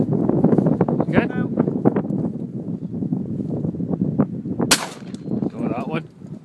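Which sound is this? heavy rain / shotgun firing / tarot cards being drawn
shotgun firing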